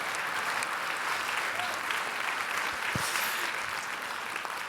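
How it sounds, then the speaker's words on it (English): A conference audience in a hall in Helsinki applauds during the opening ceremony of the 33rd Alzheimer Europe Conference, giving dense, steady clapping that holds at an even, fairly loud level throughout with no clear voices over it. "I think a round of applause for Jean and Georges."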